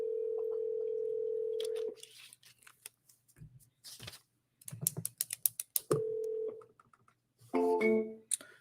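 A phone call on a handset gives a steady ringback tone, then a few clicks and clacks as the call is answered and hung up, followed by a second tone and a burst of beeps, all faint and close.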